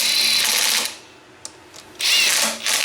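A power drill tightens pinch bolts on the aluminum front sprocket carrier of a Yamaha Raptor 700R ATV, with two loud bursts of whirring separated by a quiet pause and a small click.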